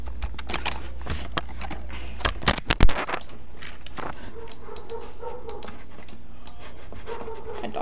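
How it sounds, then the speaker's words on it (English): A dog barks and whimpers indoors with a few sharp yelps clustered near the middle, heard over a constant background hum and clatter. "My dog is barking."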